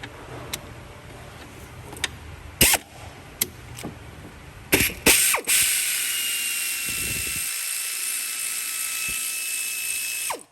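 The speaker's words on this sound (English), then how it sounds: "I'm going to zip it out with an impact." Impact wrench spinning a bolt out with a 10mm socket during oil cooler repair on a Chevrolet Cruze 1.4, heard up close as sharp ratcheting bursts around mid-clip followed by a steady high-pitched whir until the end.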